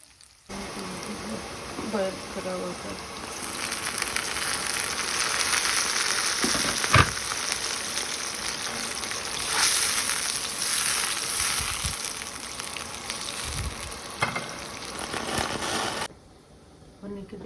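Shrimp fry in a pan with a continuous crackling sizzle, a few sharper pops and spits throughout, then the sound cuts off abruptly near the end.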